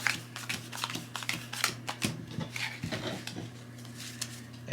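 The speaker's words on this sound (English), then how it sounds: "Make sure to shuffle the monster cards" Close-up shuffling of Scooby-Doo board game monster cards: quick, uneven flurries of crisp paper riffles and taps, fairly loud and alone over a faint steady hum.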